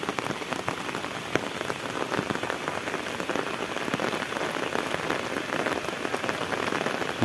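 Heavy rain pours steadily and loudly in a rural village setting in Thailand, a dense, unbroken hiss of drops drumming on surfaces, close and constant throughout.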